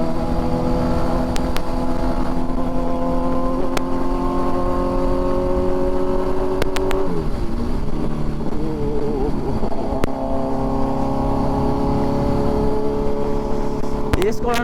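A Kawasaki Z900 fitted with an Arrow full-system exhaust idles loudly and blips its throttle, with a dip around seven seconds and a sharp rev rising at the very end, close and continuous throughout.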